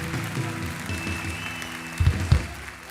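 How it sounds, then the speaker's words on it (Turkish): Audience applause in a television show studio, a brief round of clapping with a low hum of background music and a couple of louder thumps near the end. "Tuğçe kocaman bir alkış alalım"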